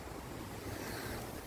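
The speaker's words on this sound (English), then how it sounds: "Super windy today." Strong, gusty wind roars steadily across the microphone in a garden around a giant pumpkin plant, a continuous broadband rush with no voices.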